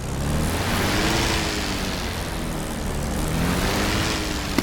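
A propeller plane taxis in the DCS flight simulator, its engine droning loud and steady with gentle rising and falling pitch swells as the brakes are worked, and no voices over it.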